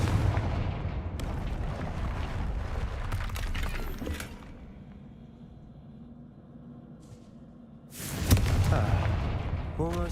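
A Confringo spell explosion in the Hogwarts Legacy video game, heard as a burst of booming blasts and crackling debris. It fades to a quiet stretch, then a second loud blast hits near the end.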